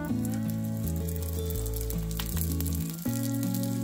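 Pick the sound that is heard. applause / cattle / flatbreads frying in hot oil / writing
flatbreads frying in hot oil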